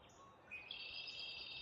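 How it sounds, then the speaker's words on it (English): Songbirds singing faintly outdoors, a thin high warbling line that rises and then holds steady above a soft background hiss, with no other sounds. "The birds are singing."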